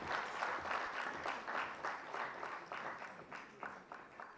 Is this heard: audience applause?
yes